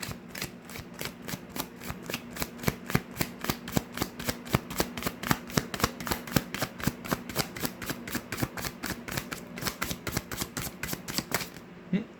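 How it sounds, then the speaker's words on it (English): Tarot cards are shuffled in a long run of quick, crisp riffling snaps with a steady rhythm, close and fairly quiet. "let me pull some more cards first. Pull some tarot cards for pile number 2."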